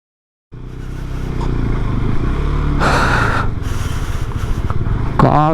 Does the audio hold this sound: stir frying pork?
no